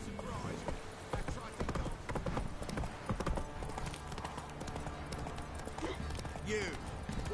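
Steady clip-clop of the horse Roach galloping in The Witcher 3, a continuous rapid rhythm of hoofbeats under game music, with a speaking voice and a brief horse whinny.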